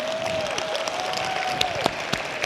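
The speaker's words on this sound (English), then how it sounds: "can y'all stand and we can give a big applause?" A conference audience applauds international attendees as they stand, a steady wash of many clapping hands with a few sharper claps and a voice ringing over the start.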